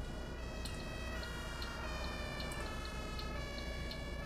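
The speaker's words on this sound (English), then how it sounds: "Oh my god, we got annoying ambulances." Ambulance sirens in the bus-driving game OMSI 2 wail continuously at moderate distance, a steady repeating electronic siren pattern with no talk.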